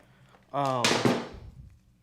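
A single sharp knock rings out as a lower chain slide is struck loose on a KTM motorcycle during installation of adjustable lowering links. A voiced sound comes just before the impact, which decays over about half a second.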